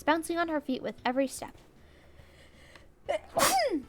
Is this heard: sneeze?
yes